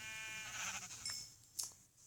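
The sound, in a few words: sheep bleating in Minecraft video game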